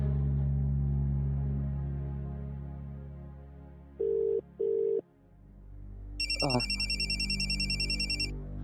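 A telephone rings close by with a repeating bright electronic ring in the last few seconds, after a couple of short tones and a low hum that cuts off. No one speaks.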